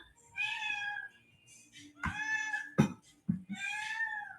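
Hungry pet cats meow loudly and close by, three drawn-out cries with a few short thumps or sounds between them.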